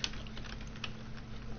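Soft clicking of typing on a computer keyboard, a steady patter of quiet keystrokes over a low background hum, close and faint.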